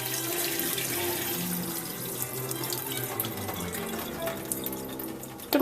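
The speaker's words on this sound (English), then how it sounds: "I'm just going to strain the water out of it." Water running and splashing into a sink as soaked, pre-cut bean thread noodles are strained, a continuous close, moderately loud pour with a few drips near the end and no talk.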